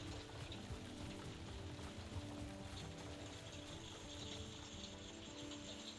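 Steady rainfall drums on a conservatory roof, a faint, even wash of patter and trickling water that runs without pause.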